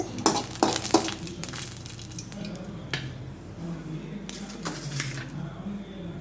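Mustard seeds and a pinched dried chilli frying in oil for raw mango pachadi, making a soft continuous sizzle with a few louder crackles and pan clinks near the start, close and fairly quiet.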